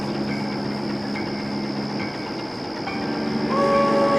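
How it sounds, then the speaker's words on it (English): Train rolling along the track with a steady rumble and faint wheel clatter, then a whistle rising near the end, held tones sounding at a distance. "a loud whistle sounded in the distance"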